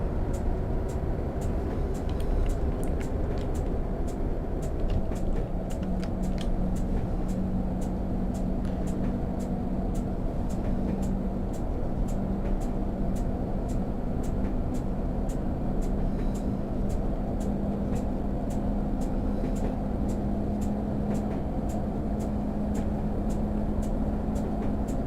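Diesel engine drone of a Class 101 DMU train in Train Simulator on the Barnard Castle to Bishop Auckland line, a continuous low rumble with a steady tonal hum and faint regular clicks across the whole stretch.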